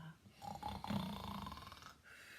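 A voice imitates snoring for a sleeping winter figure in a story, with a few rasping, rumbling snore sounds in a close, moderately loud stretch.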